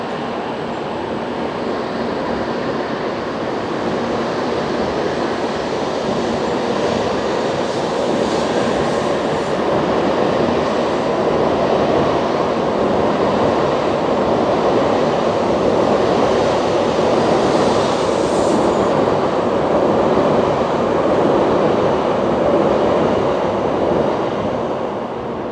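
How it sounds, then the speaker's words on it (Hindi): A Japanese bullet train running at speed, a loud continuous roar of rushing air and rumble that holds steady and builds slightly, with no voices. "अभी ये ट्रेन जा रही है, इसकी स्पीड देखना कितनी जल्दी इंक्रीज होगी।"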